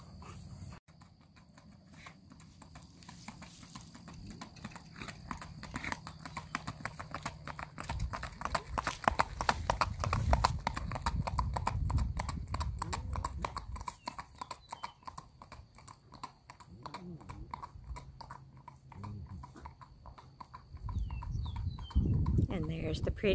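A red roan gelding walks steadily, its hooves clip-clopping in an even, close rhythm for the whole stretch, with a person talking over the footfalls at times.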